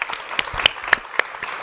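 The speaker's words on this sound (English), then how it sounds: "Round of applause for Cheryl" A small audience at a live Web3 pitch festival claps for a presenter leaving the stage, with a handful of sharp, separated hand claps sounding close and moderately loud over a thin room background.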